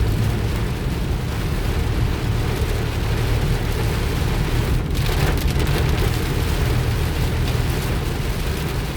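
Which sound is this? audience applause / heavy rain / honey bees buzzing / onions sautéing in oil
heavy rain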